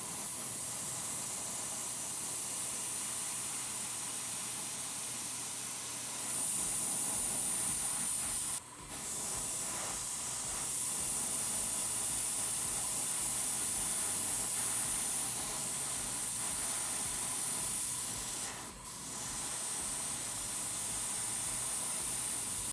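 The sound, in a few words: airbrush spraying primer on Gundam model parts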